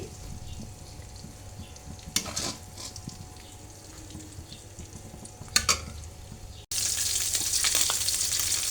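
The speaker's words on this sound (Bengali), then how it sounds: "5 মিনিটের মতো আমি এটাকে ভেজে নেব, তারপর আমি এটাকে নামিয়ে নেব।" Shrimp frying in a pan give off a steady, fairly quiet sizzle broken by a couple of sharp stirring clatters, then the crackle jumps louder toward the end.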